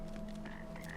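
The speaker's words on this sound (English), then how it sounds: "I hear frogs" Frogs croaking in a dark drain area of the video game Wuchang: Fallen Feathers, a steady low chorus of repeated croaks, moderately quiet and continuous with no talk.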